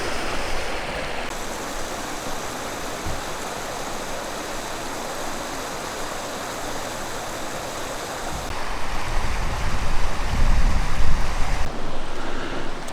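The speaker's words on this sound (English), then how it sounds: "But still, the river is flowing." Steady rushing water of Margaret River flowing over a rock bar at the top of a waterfall, a broad continuous roar with some wind buffeting the microphone, growing louder near the end, with no voices.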